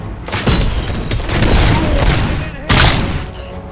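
Assault rifle fire from RoboCop: Rogue City, an AK-74-style weapon, rattling in loud dense bursts with a booming onset, a sustained volley, then another heavy burst near the end, over faint game ambience.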